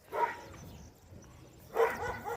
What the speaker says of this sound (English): Giant dog saying hello.